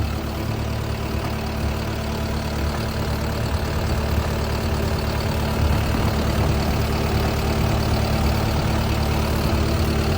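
A Caterpillar 311D RR 11-ton excavator with a new common-rail C4.2 engine runs at a steady idle, a continuous dense mechanical rumble with knocking texture, close and loud throughout with no voices.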